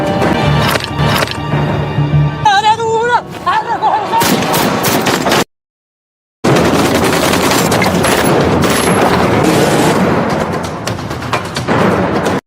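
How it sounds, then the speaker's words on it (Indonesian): Rapid bursts of gunfire crackle loudly with sharp repeated shots, broken by a brief silence before another dense barrage of firing. "mereka langsung menghujani Mike dan Tommy dengan tembakan"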